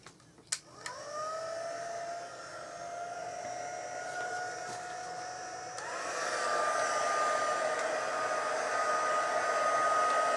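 An embossing heat tool runs on its hottest setting, a steady close whooshing blower hum with a whining motor tone that switches on with a click and rises in pitch partway through.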